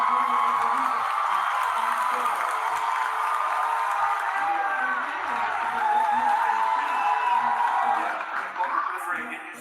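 A large crowd at a talk show claps and cheers in a steady, loud roar of applause that continues for several seconds before starting to fade near the end.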